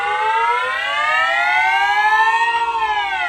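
A steady electronic whooshing tone from a Milton Bradley Star Bird Avenger toy spaceship, loud and close, slowly rising in pitch as it is tilted up and then leveling off.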